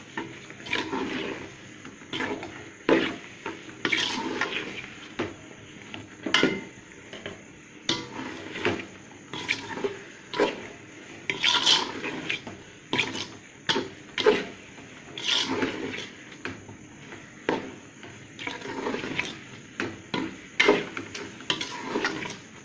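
Semolina and coconut are stirred in a pan as the mixture thickens, giving repeated close scraping and rubbing strokes of a spoon against metal in an uneven rhythm, with no talking.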